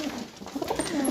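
A pigeon coos in soft, repeated throaty murmurs at close to middle distance, set against a hissy, busy background.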